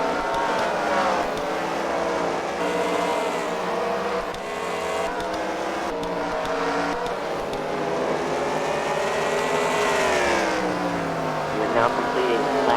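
Race cars lap a track at a Fight Night heat race at The Freedom Factory, engines rising and falling continuously in a layered, loud roar as a commentator talks over the action.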